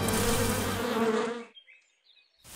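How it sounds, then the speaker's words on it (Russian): Bees buzzing in a cartoon: a loud, dense swarm drone fills the first second and a half, then cuts out to near silence before a faint noise returns at the end. "Наконец ты избавился от этих пчел."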